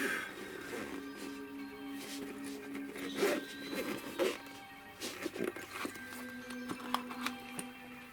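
A double zipper on a Powkiddy X55 handheld console case is worked open and closed, making a series of close, scratchy zip strokes in uneven bursts over several seconds, with quiet handling sounds in between.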